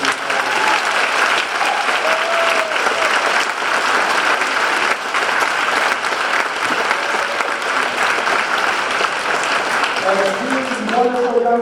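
An audience at a youth awards ceremony claps loudly and steadily, a dense, continuous wash of applause filling the hall for the whole stretch, with a brief dip midway and a few voices rising toward the end.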